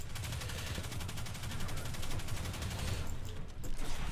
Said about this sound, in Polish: Coś we mnie z tyłu strzela.